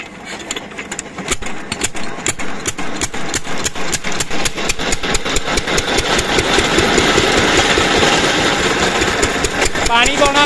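Engine running a 5-inch water pump, its steady, loud mechanical chugging building and holding throughout with rapid regular pulses, a voice speaking over it.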